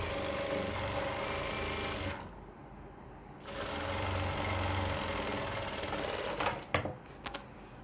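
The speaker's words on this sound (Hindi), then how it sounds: "इसके ऊपर एक किनारे पे सिलाई लगाएंगे बिल्कुल ऊपर देखें ऐसे" A sewing machine runs steadily while stitching along the edge of baby pant fabric, pauses for about a second, then resumes its even mechanical whir, ending with a few sharp clicks and knocks up close.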